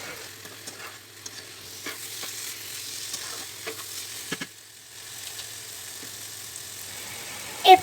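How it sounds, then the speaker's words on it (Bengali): Chicken with rice and lentils for khichuri fries in a pan with a quiet, continuous sizzle, broken by soft intermittent scraping stirs, and no talk. "মুরগির মাংসের সাথে আমি খুব ভালোভাবে মিশিয়ে কিছুক্ষণ ভেজে বা কষিয়ে নেব।"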